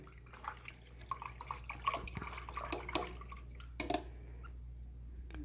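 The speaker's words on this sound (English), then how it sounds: "I'm going to rinse this brush out because it's kind of big" An acrylic paintbrush, a large mop brush, is swished and rinsed in a water container, giving faint scattered splashes and drips close by with a soft hum underneath.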